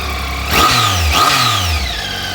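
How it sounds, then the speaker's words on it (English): A 2012 Triumph Tiger 800 XC three-cylinder motorcycle engine idles close by, then revs sharply twice in quick succession, each blip rising and falling back to a steady loud idle. "The 3-cylinder engine makes really good power."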